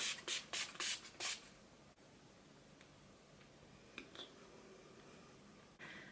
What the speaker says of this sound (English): I'm just going to set all of that makeup in place using the Urban Decay All Nighter Setting Spray